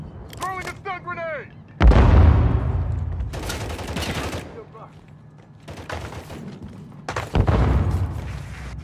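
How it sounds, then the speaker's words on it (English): Loud stun grenade blast and bursts of gunfire in Call of Duty: Modern Warfare Kill Confirmed multiplayer on the Departure map, heavy booms and rattling shots in several waves, with brief game voice callouts. "Throwing a stun grenade!"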